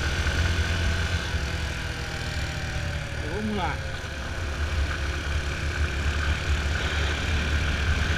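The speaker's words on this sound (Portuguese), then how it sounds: "essa aqui é uma Fazer 250 cilindradas. Tem uma arrancada muito boa" A Yamaha Fazer 250 cc motorcycle riding uphill on a mountain road, its engine droning steadily with wind rush throughout, under a man's brief spoken remark.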